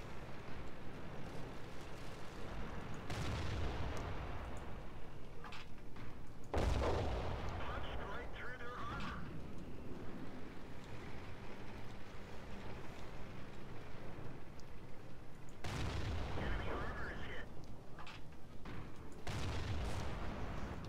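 Tank cannons boom repeatedly in a World of Tanks battle, a T-46 light tank firing bursts with loud heavy blasts over a constant rumble of engine and wind-like noise, with some talk mixed in.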